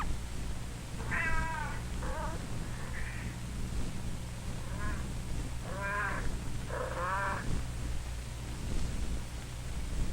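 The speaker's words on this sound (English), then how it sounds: "Robin and Billy hear a loud mewing." A kitten mews loudly and repeatedly in short, wavering cries, several calls spread across a steady low hum, with no talking.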